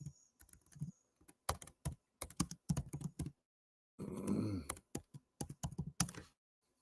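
Clicky keystrokes on a computer keyboard come in quick irregular bursts close to the microphone. Short pauses separate the runs, and a brief muffled rustle sits in the middle.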